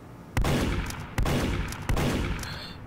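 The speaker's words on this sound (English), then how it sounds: "he uses a revolver for his gun" Spy's revolver firing three loud, evenly spaced gunshots in Team Fortress 2-style gameplay, each a sharp crack with a short tail, with no talk.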